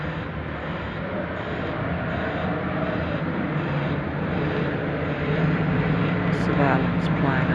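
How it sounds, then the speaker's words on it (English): A surveillance plane flies over a house, its broad, steady engine drone rumbling continuously overhead and swelling slightly toward the end, with faint street noise underneath. "Surveillance plane over the top of the house right now."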